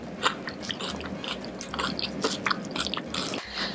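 Someone eats chunky homemade fresh salsa with close, wet crunching and chewing bites repeating steadily and up close, with no talking.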